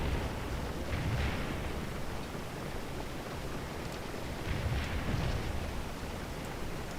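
Cannon artillery fire in a Civil War strategy video game: faint, distant rumbling booms roll out about twice over a low, constant background roar.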